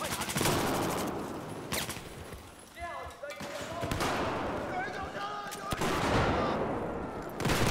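Gunfire in the video game Battlefield 4 on the Pearl Market map, several loud bursts and sharp shots spread through the clip with a quieter stretch between them.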